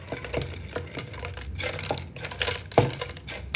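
A spoon stirs ground paste with cassava (kolli) chips in a bowl, making uneven scraping and clicking sounds, close and fairly steady.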